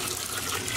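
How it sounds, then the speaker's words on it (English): Water pours steadily in a continuous rushing stream, close by, filling a cooking pot for Moroccan lamb soup, with a brief dip at the very end. "And we'll add 8 cups of water."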